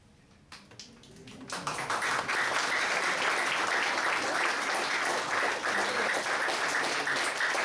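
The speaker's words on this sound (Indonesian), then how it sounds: "kasih tepuk tangan untuk mereka" Audience applause at a gathering of team leaders in Surabaya, starting with a few scattered claps and swelling after a second or so into steady, full clapping that continues to the end.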